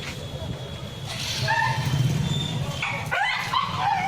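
Stray dogs caught by municipal workers bark, yip and whimper at close range, several short cries rising over a continuous background, while people talk nearby.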